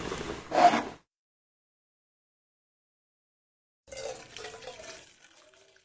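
Water drains from partially cooked biryani rice in two splashing pours: a short loud gush, then a longer stream about three seconds later that tapers off into trickles.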